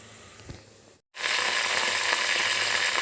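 Onions sautéing in a pan for a chicken masala biryani, a short quiet sizzle that cuts to silence, then a loud, steady, close frying hiss that continues to the end.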